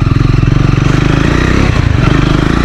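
A Triumph Scrambler 400 XC motorcycle engine accelerating, a loud, close, pulsing single-cylinder throb with a rapid regular beat and a brief stutter midway.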